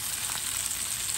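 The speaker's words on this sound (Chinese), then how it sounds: "我这是盖上一个盖子，把它煎熟" Flounder pan-frying in oil under a lid, a close, steady hissing sizzle with soft crackles throughout the short stretch and no voices.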